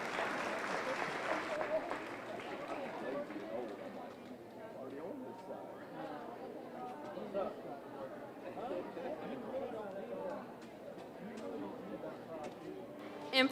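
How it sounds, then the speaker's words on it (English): A crowd at a commercial heifer show, Polk County Youth Fair 2022, gives a short burst of applause for the exhibitors, which fades into general murmuring chatter and voices around the arena. "Let's give this round of exhibitors some applause,"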